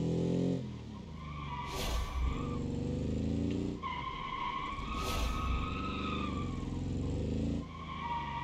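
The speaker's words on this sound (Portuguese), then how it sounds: "Quem disse que Fusca não pode cantar pneu?" Volkswagen Beetle tires squealing loudly in BeamNG.drive, long sustained squeals broken into a few drawn-out bursts, with engine noise running underneath and no talking.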